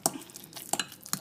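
A spoon stirs lasagne filling in a large bowl. Soft wet scraping strokes come in a few uneven bursts, close and fairly clear, with no talking over them.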